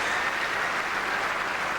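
A tennis crowd at a Hopman Cup match in Perth applauding, a dense steady wash of clapping throughout, with no voices standing out.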